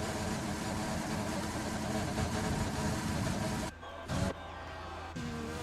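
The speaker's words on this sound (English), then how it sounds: "Either that or I'm having the engine rev limiter bug, which Codemasters said they fixed." A car engine in a Codemasters racing game holds a steady, droning rev, as if stuck at the rev limiter, then cuts out briefly twice and comes back.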